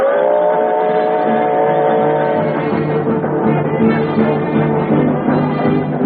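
A radio-drama steam locomotive running fast with the throttle open roars loud and continuous, a dense churning rumble with a sustained whistle-like tone over it, alone without voices.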